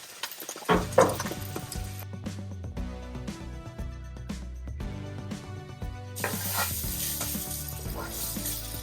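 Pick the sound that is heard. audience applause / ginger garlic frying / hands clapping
ginger garlic frying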